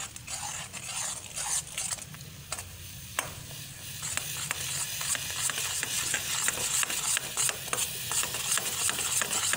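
Close, steady scraping and clicking of a spoon stirring a honey and milk soap paste as it cooks in a pot, with repeated sharp strokes and a faint sizzle over about ten seconds.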